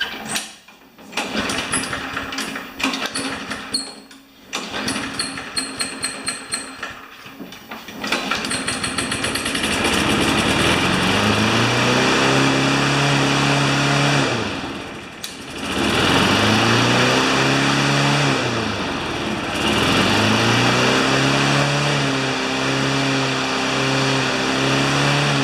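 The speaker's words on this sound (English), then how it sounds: "It's revving too high, but it works." A Craftsman lawn mower's small engine sputters and catches after several pull attempts, then runs steadily and revs high with a brief dip midway, loud and close for about twenty seconds with no talking.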